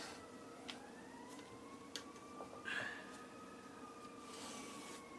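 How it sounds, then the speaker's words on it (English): A faint emergency siren wails in the distance outside, its tone slowly rising and falling behind a steady background hum with a few soft clicks. "Hopefully you can't hear the sirens outside."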